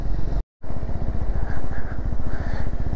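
A Triumph Scrambler 400X motorcycle engine pulses rapidly and loudly while riding at high altitude in Spiti in winter, with a brief dropout near the start before the throbbing resumes close to the microphone.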